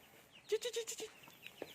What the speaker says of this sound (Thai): เจอไก่ไก่ตัวใหญ่มาก ดูสิ แม่ไก่ ไก่ไข่เนาะเขาเรียกว่าไก่ไข่